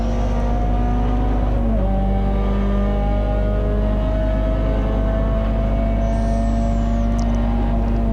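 Peugeot 206 GTi 180 race car engine lapping Silverstone in a Tin Tops race, heard from inside as a loud, steady onboard drone with a shifting engine tone and constant road and wind roar.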